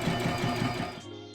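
Sewing machine zigzag stitching the shoulder and side seams of a lined long-sleeve top, a brief close, steady mechanical whir with a rapid rhythmic pulse that slows and stops after about a second.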